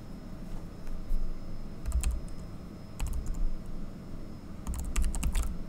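A command is typed on a computer keyboard in three short bursts of close, crisp key clicks with pauses between them, over a quiet room hum and with no talking.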